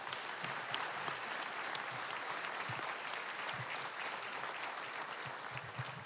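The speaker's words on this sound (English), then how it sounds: "Can we just clap for that gifting, right?" Audience at a youth ministry fundraising banquet clapping, a steady wash of applause with a few louder claps, fairly faint and distant, no talk.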